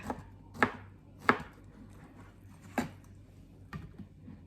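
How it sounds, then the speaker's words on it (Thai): Five sharp knife chops strike a cutting board at uneven intervals as a peeled luffa gourd is cut, crisp and close, with quiet pauses between. "ปอกเปลือกออกเยอะเลยนะคะก็หั่นนะคะ ชิ้นตามใจชอบอะค่ะนะคะ"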